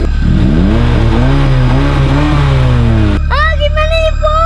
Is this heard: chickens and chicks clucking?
no